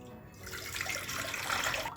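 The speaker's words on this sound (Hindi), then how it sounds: "अब इसमें हम डालेंगे पानी।" Water is poured into a steel pressure cooker, a soft, steady splashing rush for a couple of seconds, heard alone.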